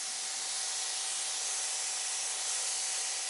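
An electric pressure washer's foam wand sprays a pair of red Shelby GT350 cars, giving a steady, broad hiss with no breaks through the whole stretch.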